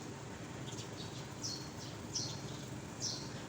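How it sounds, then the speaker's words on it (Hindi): Faint bird chirps recur about three times against a steady background hiss, light and distant, with no one speaking. "मुझे ना चिड़ियों की इतनी प्यारी आवाज़ आती है"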